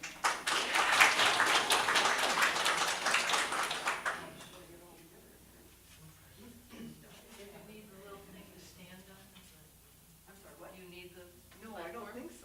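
An audience applauds a speaker being welcomed, a dense burst of clapping lasting about four seconds before fading into a single voice talking.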